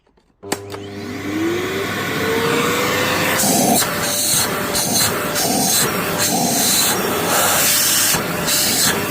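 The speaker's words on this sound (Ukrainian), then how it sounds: "Демонструю вам роботу даного пилососа" Philips FC9714 vacuum cleaner running after repair: a sudden switch-on click followed by a rising motor whine that settles into a loud, steady roar with airy hiss and rhythmic fluctuations as it is moved about, close to the microphone.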